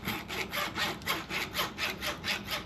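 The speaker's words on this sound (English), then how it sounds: "I'm trying to do it with a very dull, small hacksaw" A dull, small hacksaw cuts through a soft aluminum transfer tube with steady back-and-forth strokes, about four per second, each a close, even rasp with no talking.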